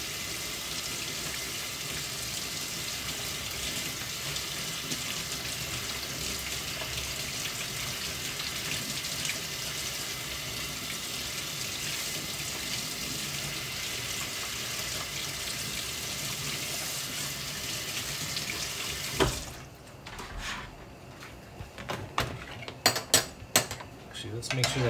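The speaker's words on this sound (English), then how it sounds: "I'm gonna be washing a potato here" Water gushes steadily from a kitchen tap while a potato is washed, a loud constant splash that stops near the end, followed by sparse clinks and clatter.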